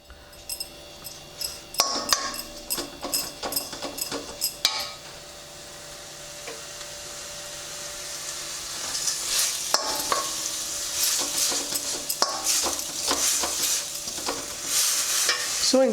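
Potatoes for a Karnataka-style potato starter stirred and frying in a pan over a gas flame, with a steady sizzle under repeated scraping and clinking strokes of the spoon, loud and close.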